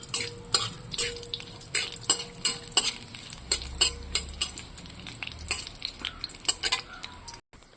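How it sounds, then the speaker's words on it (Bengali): Mustard seeds and dry red chillies sizzle in hot oil in a wok as a tempering for sour dal, a soft continuous crackle broken by a regular series of sharp metal spatula scrapes and clinks, close up and without talk. "তো টক ডাল বানাবো বলে আমি এই যে কড়াই সর্ষের ফোড়ন দিয়েছি, আর লঙ্কা দিয়েছি, শুকনো লঙ্কার ফোড়ন।"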